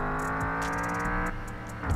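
Race car engine in the Mon Bazou video game held at full throttle, a steady loud harmonic drone with rising pitch that drops slightly near the end, alone without talk.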